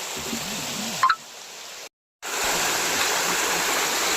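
Steady broadband rush of a flowing stream, continuous and fairly close, briefly cut by a short gap of near-silence midway, with a faint low hum at the start.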